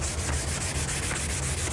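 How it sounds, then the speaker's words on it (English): Steady, close abrasive rubbing of sandpaper across a varnished wooden furniture panel, a continuous scratchy hiss with a gentle back-and-forth pulse and no talk. "you're going to sand this panel"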